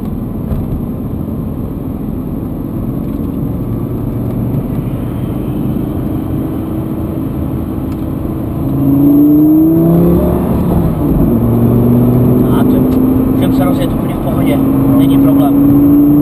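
A Lamborghini with paddle-shift gears is driven on the road, its engine droning loudly and then rising in pitch as it accelerates partway through, under someone talking.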